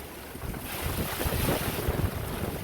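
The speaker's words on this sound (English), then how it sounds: "The wind gusts so far have kind of calmed down, but it's still windy" Strong wind gusts of up to 100 mph in Kansas roar and buffet against the microphone, building to a heavy, rumbling gust with a hissing rush throughout, no voices.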